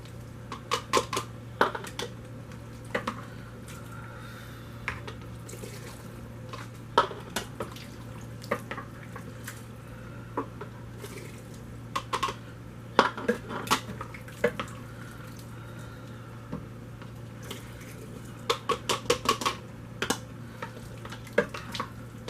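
Beef stew is ladled into glass canning jars in a home kitchen, giving scattered light clinks and taps of metal on glass at an uneven pace over a steady low hum.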